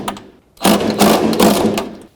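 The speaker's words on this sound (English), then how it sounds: "the only thing that was able to take this off was an impact" Impact wrench tightening the wiper transmission nut on a 2001-07 Toyota Sequoia: a brief start, then a loud, close, continuous buzzing rattle for about a second and a half, with no talking.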